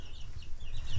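Chickens cluck briefly on a farm, a short burst of soft fowl sounds over low background rumble.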